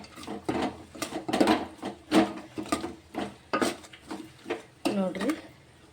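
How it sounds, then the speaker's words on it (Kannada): Lemon pickle being stirred with spices in a bowl, a spoon scraping and knocking against the dish in irregular close strokes, with a voice talking intermittently over it. "ಈಗ ಇದನ್ನು ಚೆಂದಾಗಿ ಮಿಕ್ಸ್ ಮಾಡಂಬ್ರಿ"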